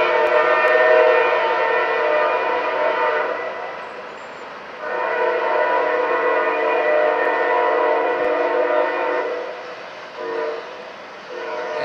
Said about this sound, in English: He gave his horn a good workout for that bush cutting machine over there.